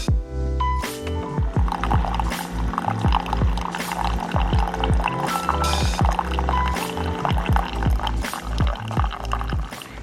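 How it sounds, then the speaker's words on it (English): A home dishwasher runs at night, giving rhythmic sloshing and splashing water bursts that repeat steadily and fairly loudly through the whole stretch, with no voices. "if you can hear all that noise in the background, that is my dishwasher"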